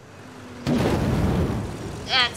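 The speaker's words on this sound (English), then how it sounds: "That's what a nuclear explosion looks like." A nuclear explosion in the strategy video game Civilization 6 starts with a sudden loud boom and then a sustained roaring rumble that rises briefly near the end.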